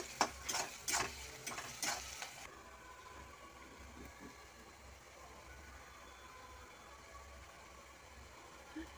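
Salted onions fry in hot oil, opening with a few sharp scraping stirs of the pan before settling into a low, even sizzle that continues quietly on its own.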